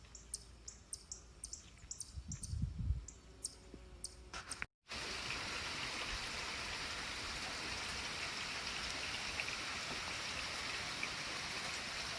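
Steady outdoor rain falls on a wet day, a broad even hiss that fills the scene after a brief cut, with faint birdsong and a short low rumble earlier on.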